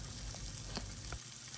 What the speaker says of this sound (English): Keep frying it until the chicken is cooked very well and it turns golden brown.